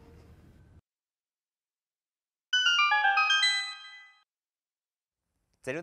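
A bright, tinkling run of chiming tones from a gold skulltula in a Zelda video game rings out clearly after a brief low sound and silence, then fades; another short chime follows.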